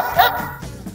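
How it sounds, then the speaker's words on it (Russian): A children's musical toy plays a recorded dog bark, one short yappy bark followed by a fading electronic tail, close and fairly loud. "Эта собака в игрушке лает как настоящая."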